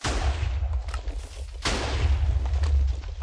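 TNT cannons firing aboard blocky pirate ships in a video game, loud deep booms with a strong explosive blast in the middle, heavy low rumble throughout.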